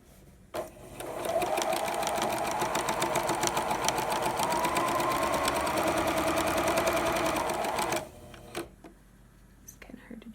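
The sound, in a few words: sewing machine sewing fabric for a face mask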